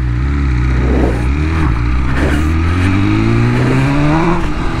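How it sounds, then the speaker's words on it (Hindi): A newly delivered superbike's engine revs hard as the throttle opens, a loud, close roar whose pitch climbs steadily with a few brief dips, dominating without any talk. "हल्का सा थ्रॉटल मारा भाई ये तो रॉकेट बन गई"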